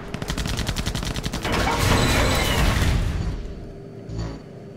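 Rapid automatic gunfire in the AirMech video game, a fast regular burst of shots as missiles are shot down, giving way to a denser rumbling barrage and a brief boom near the end.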